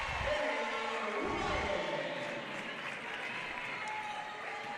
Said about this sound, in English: Big cheer from the bench there